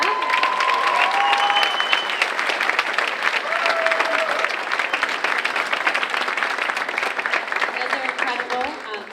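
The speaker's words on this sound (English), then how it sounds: "Can we get a huge round of applause for everyone here?" Sustained audience applause fills a high school senior awards night, dense steady clapping with a few voices calling out over it, tapering slightly toward the end.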